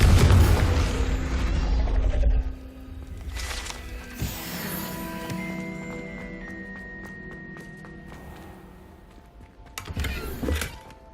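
The Confringo fire spell from Hogwarts Legacy sets off a deep, rumbling blast at the start, followed by fading game ambience and a second short burst near the end.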